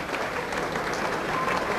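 Football fans at Plymouth Argyle's stadium give a sustained ovation after a 0-3 loss to Chelsea, a dense, steady wash of applause from a big crowd of over 10,000, loud and continuous with a faint murmur of voices.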